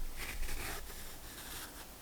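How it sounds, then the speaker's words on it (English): A small cardboard matchbox slides closed in a quiet indoor setting, giving a soft close scraping rustle that runs steadily for about two seconds, near and gentle with no talking. "This is the sound of the matchbox closing."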